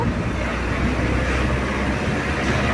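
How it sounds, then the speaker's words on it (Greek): A small pickup truck drives on a mountain road near beehives, its engine and road rumble loud, close and steady throughout with no pauses. "επειδή πάμε το φορτηγάκι, ακούγεται λίγο δυνατά"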